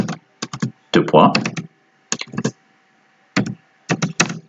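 Computer keyboard keys clatter in quick close-up bursts of several strokes with short pauses between, loud and near, with no talk over them.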